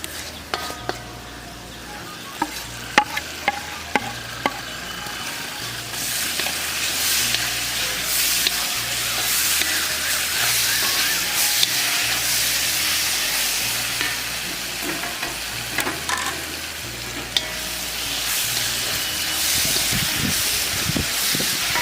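Steady loud sizzling of chopped lemon frying in a pan for lemon pickle, with occasional clicks and scrapes of stirring throughout.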